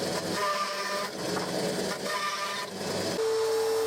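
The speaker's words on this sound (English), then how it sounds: "Then I cut another piece of cladding and shaped it first on the bandsaw." A bandsaw shapes a piece of wooden cladding for a dog house, a steady machine whir with a tonal hum and cutting surges, loud and close, with no talk.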